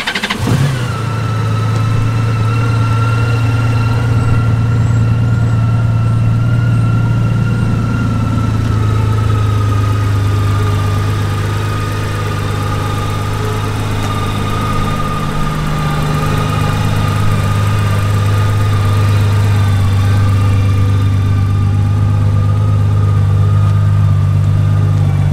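A 2002 Honda Goldwing trike fires up with a sharp start, then settles into a steady, loud idle with a low, even engine hum and a slight dip and rise in pitch midway, running alone throughout.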